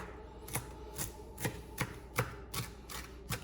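A knife chops food on a cutting board while preparing low carb nachos, giving about eight sharp, evenly spaced knocks roughly half a second apart. The sound is close and moderately loud over a quiet kitchen background, with no talking.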